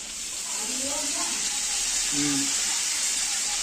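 Water is poured into a hot cooking pan as the final step of a home-cooked dish, producing a steady loud hiss and rush of sizzling water, with a voice briefly talking underneath.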